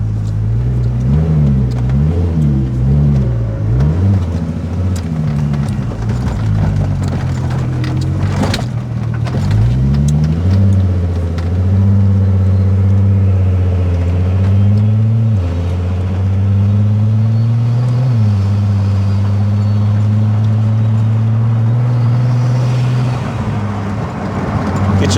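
A turbocharged, VR6-swapped Toyota MR2 Spyder making about 600 hp, heard from inside while driving to a car show; a loud, continuous engine drone rises and falls with revs and shifts, with turbo whoosh and no talking.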